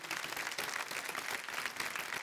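Audience applause on a folk singing reality show stage, a dense, steady burst of many hands clapping at once, sustained evenly for a couple of seconds with no voices over it.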